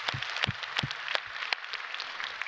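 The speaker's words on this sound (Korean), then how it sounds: "우리 좋으신 하나님께 박수로 감사합니다." A church congregation at a Sunday service claps in thanks, scattered individual claps forming a loose, moderately close applause that thins out toward the end.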